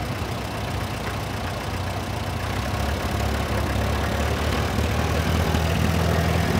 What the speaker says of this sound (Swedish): Den är på 22 hästkrafter och har en fyrcylindrig fotogenmotor.